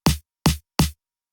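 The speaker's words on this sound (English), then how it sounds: "Nice tight snare. And that's from the original song." Tight snare drum sample from a song, three sharp hits in quick succession, each short with a punchy body and crisp rattle, loud and dry with silence after.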